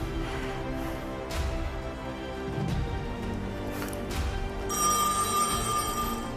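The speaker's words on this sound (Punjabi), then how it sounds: "ਸਿੱਧਾ ਪੀਐਫ ਵਾਲੇ ਨੂੰ ਫੋਨ ਕਰਦਾ" A telephone rings during an outgoing call, a repeating electronic ringback tone that comes in clearly toward the end over a low steady background.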